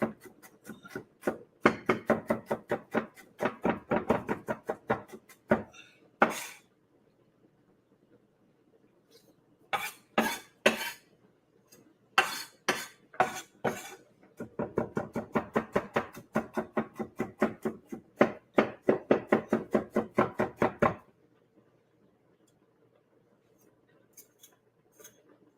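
Knife chopping food on a cutting board while dinner is cooked on the stove, with two long runs of quick, close, rhythmic taps and a shorter burst between them, separated by near-silent pauses.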